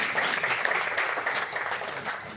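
Applause from an audience at a poetry gathering during a Bhiwani foundation festival, a steady dense patter of many hands clapping throughout, fairly loud and without speech.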